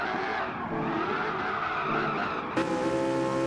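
A car in the Gran Turismo 7 racing game does a burnout, giving a steady harsh tire squeal over a revving engine. A sudden brighter, louder shift in tone comes near the end.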